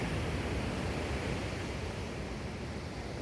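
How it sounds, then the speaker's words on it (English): Steady broadband rush of surf breaking on a nearby seafront shore at Khao Lak, Thailand, a continuous washing roar with no voices. "That's that beautiful sound of the waves."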